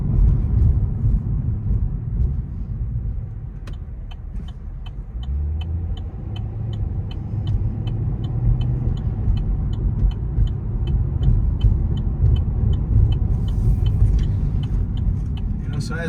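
A 2015 Chevrolet SS driving on city streets, heard from inside the cabin: a steady low engine and road rumble, with a regular ticking, likely the turn signal, through the middle and someone talking over it.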